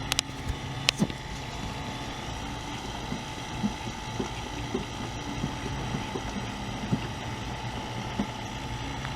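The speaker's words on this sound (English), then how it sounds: "I've had my vacuum pump hooked up for a little over an hour and it's been humming along, sucking at 30 inches of vacuum." A vacuum pump hooked to a Dodge Caravan's AC system runs steadily, giving off a continuous mechanical hum with faint rattling ticks, alone and at moderate level throughout.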